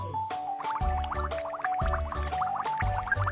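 Cartoon sound effect of water washing soap off a number figure, a bright bubbly run of splashy, dripping and pouring tones with a light musical bounce, steady and close throughout.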